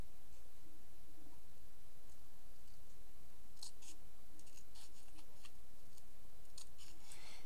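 Scissors snip through paper during stamping crafts, a few faint, quick sharp cuts near the end over a quiet background hiss, with no talking.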